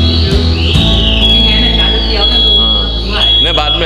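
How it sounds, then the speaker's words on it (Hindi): A smoke detector alarm blares during a fire mock drill inside a cinema at a Thane shopping mall, loud and continuous, with people talking over it. "तो ये स्मोक डिटेक्टर है, जब कोई धुआं चला जाता है उसके अंदर तो ये अलार्म बजेगा।"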